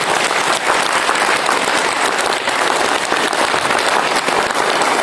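Loud, dense applause from a large audience at a Hindi-speaking gathering, steady sustained clapping filling the whole stretch without a break.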